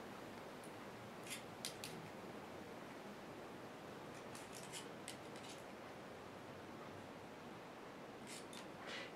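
Scissors cutting into thin copper sheet for a folded snowflake ornament: several short, crisp snips in small clusters, close and fairly quiet over a steady hiss of background noise, with no talking.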